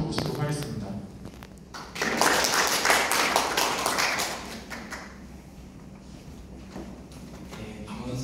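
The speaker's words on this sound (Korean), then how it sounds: "전용훈 대표님을 큰 박수로 모시도록 하겠습니다" An audience at a medical device FDA approval lecture at BEXCO in Busan breaks into applause to welcome a speaker: a sudden swell of clapping that holds for a couple of seconds, then thins out to scattered claps amid room murmur.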